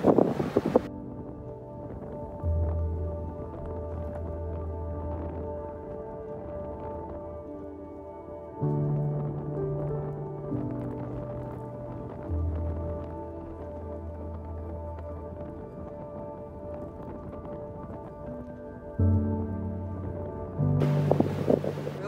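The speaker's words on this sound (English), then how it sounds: "Waves are getting bigger and bigger." Wind and building waves around a sailboat at sea, a steady rushing wash with low engine-like droning in stretches, no voices.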